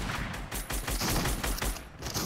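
Rapid bursts of gunfire from the video game Fortnite, loud and dense, crackling continuously through the whole stretch with no talk over it.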